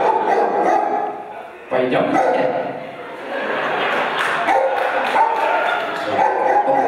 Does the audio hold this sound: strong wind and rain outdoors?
no